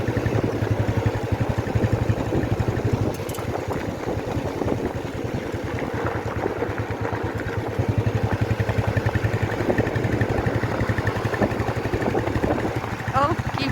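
Motorcycle engine humming steadily at low speed while riding slowly through the streets of New Town, Kolkata, a continuous drone with wind and road noise throughout.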